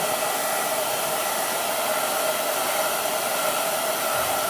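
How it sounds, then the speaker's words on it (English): A heat gun blows steadily at close range, warming sail repair tape to activate its glue, a continuous even hiss with no talking. "I'm going to heat up the tape to activate the glue."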